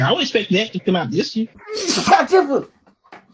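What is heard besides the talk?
sneeze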